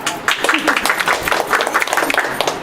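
A small group claps at a Simant ceremony, a short burst of scattered, uneven handclaps at close range with voices mixed in.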